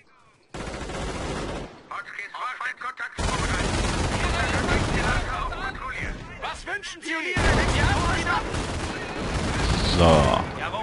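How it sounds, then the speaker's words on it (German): Sustained gunfire and machine-gun bursts in the Company of Heroes video game, dense rattling volleys and booms filling the scene nearly continuously, with shouted voices mixed in. "Der Stützpunkt liegt unter Beschuss!"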